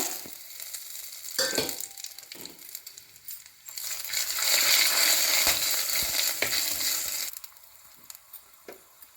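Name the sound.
whole spices sizzling in hot groundnut oil in a kadai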